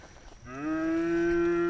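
One cow gives a single long moo that rises at the start and then holds steady, fairly close.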